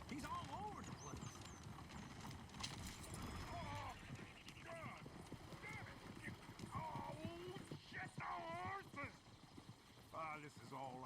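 A horse-drawn coach in Red Dead Redemption 2 clip-clops along with quick, uneven hoofbeats and an occasional whinny, while voices talk over it throughout.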